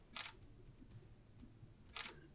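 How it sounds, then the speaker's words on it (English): A Samsung Galaxy S10+ in ceramic black fires its camera shutter twice, two crisp, close clicks about two seconds apart over a quiet room hush. "and the shutter sound is also quite good."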